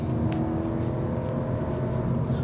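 An Audi A4 35 TFSI 150 PS S-Tronic Sport drives along tight narrow lanes, its engine giving a steady, even hum with road and tyre roar throughout, no voices.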